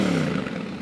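A brand-new Yamaha Ténéré 700 engine with 0 km idling close by, a low rumbling drone with a slight revving dip, loud and steady.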